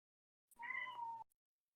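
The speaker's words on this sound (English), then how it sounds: "Sorry, that's my cat." A house cat gives a single short, clear meow, close and moderately loud, with silence before and after.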